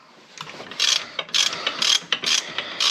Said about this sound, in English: flip my ratchet around here